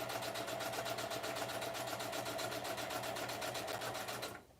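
A sewing machine stitches a card in a steady, fast, even run of needle strokes, close and continuous for about four seconds before stopping abruptly.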